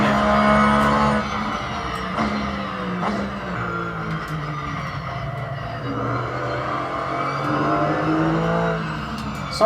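A race car in the video game Assetto Corsa drives on steadily with a continuous engine drone, the pitch dropping and rising through gear changes, heard from the cockpit with road rumble and no talk.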